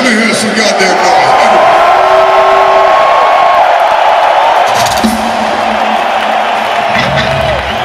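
A huge rock concert crowd in MetLife Stadium in New Jersey roars and whoops continuously, loud and dense cheering filling the open-air venue, with a few shouted voices standing out.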